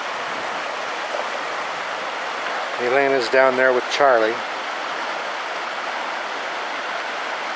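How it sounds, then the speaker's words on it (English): A waterfall on the Oregon Coast gives a steady, broad rushing hiss of flowing water at moderate distance, continuous throughout while a person briefly speaks over it midway. "So here we are at the waterfall."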